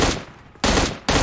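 M16 rifle fire in an online battle-royale shooter game, loud close bursts of automatic shots broken by short pauses.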